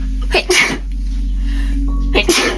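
Two sharp sneezes burst out close by, about two seconds apart, each a quick noisy explosion over a low steady background hum.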